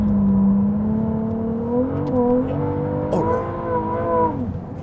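A Ferrari 296 GTB engine pulls hard at full throttle, its loud, close drone climbing in pitch through several gears with brief dips at each shift, heard alone.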